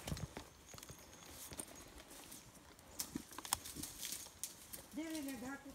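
Horse hooves clip-clop on a farm in the Philippine countryside, a few faint, uneven steps at a distance while people talk nearby and a voice rises at the end.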